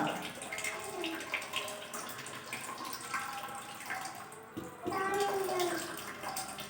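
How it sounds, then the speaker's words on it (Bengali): Hot water runs steadily from a tap into a basin, a continuous splashing hiss under people talking nearby. "বন্ধ করে দাও কলটা, কলটা বন্ধ করে দাও।"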